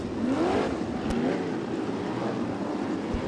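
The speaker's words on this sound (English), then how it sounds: "Jennifer, who brings the car off the racetrack now" A Top Gun Sprints race car pulls off the racetrack, a steady, fairly close engine rumble with a brief rising rev near the start, no talk over it.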